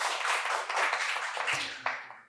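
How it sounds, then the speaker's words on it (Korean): Audience applause greeting a panelist introduced at a Korean panel discussion on AI and the humanities, a dense, steady wash of clapping filling the hall for about two seconds before tapering off. "박수 부탁드립니다"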